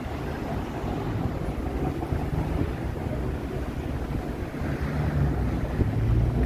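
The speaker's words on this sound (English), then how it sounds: "See how windy it is when I turn the camera around" Wind gusting along a Toronto city street on a warm evening, a loud continuous roar buffeting the microphone with steady rumbling and no pauses.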